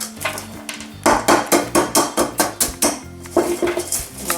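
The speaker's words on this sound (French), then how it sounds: "on va essayer d'enlever le gravier" Gravel being removed from a plant pot, a series of close, sharp clinking and clattering knocks in a fairly regular rhythm, loud and alone, with a short pause partway through.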